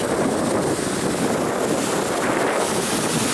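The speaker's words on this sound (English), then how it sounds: "You already know we out here with the waterfall behind us and the amazing view in the background." Steady, loud broadband rush of a waterfall at Yosemite, mixed with gusting wind buffeting the microphone outdoors, continuous and unbroken throughout with no talking.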